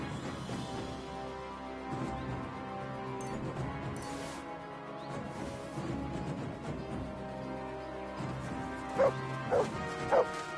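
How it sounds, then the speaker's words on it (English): A dog in the medieval action game Kingdom Come: Deliverance II gives a few short barks near the end, heard over a busy bed of game music and ambience. "Good dog, Max."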